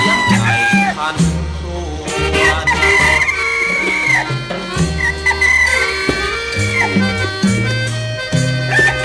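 A rooster crowing inside a Thai country song, woven into a loud, full band arrangement with sung melody. Brief crow-like calls rise over the music.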